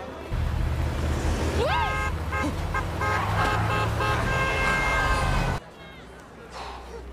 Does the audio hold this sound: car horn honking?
yes